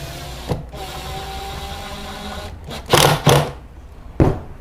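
A steady motor whir from an X-Line 20 2-in-1 drill driver runs throughout, broken by a few short louder bursts near the end as it drives a screw.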